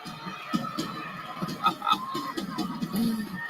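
A large audience at the Kia Forum cheers and applauds, a busy wash of crowd noise with rising swells and scattered shouts, people talking over it nearby.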